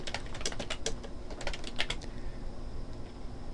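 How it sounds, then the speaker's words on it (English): Fingers typing on a computer keyboard, a quick irregular run of light key clicks that stops partway through, leaving faint background hum. "Simply click and begin typing."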